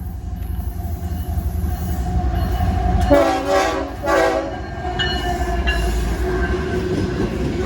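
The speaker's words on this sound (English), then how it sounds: "we got a CSX Westbound train hanging down the line" A CSX westbound freight train rumbles past near Depew Amtrak Station with a steady low roar of wheels, broken by two loud horn blasts and faint squealing.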